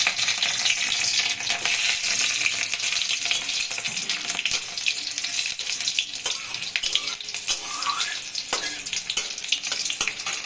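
Garlic and green chillies fry in a pan with a steady bright hiss, occasional crackles and stirring scrapes.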